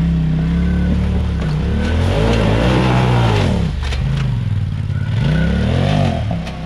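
A Polaris side-by-side engine revs hard on a sand hollow trail, its loud belt-driven drone rising and falling in several surges over about seven seconds, near and continuous.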